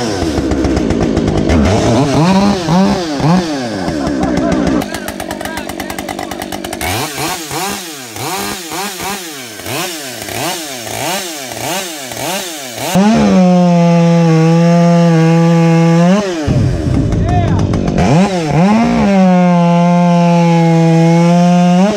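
A Husqvarna 562 XP chainsaw runs loud and close. It revs up and down repeatedly and bogs as it cuts through wood, then holds a high steady scream at full throttle before dropping back.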